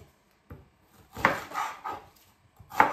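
A knife cuts through shallots on a board, a few separate close thuds and scraping cuts spaced by short pauses, with no talk.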